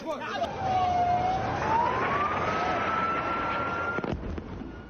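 A single wailing alert siren in Khan Younis rises slowly and holds steady, heard from a distance over a dense background rumble, then cuts off abruptly near the end.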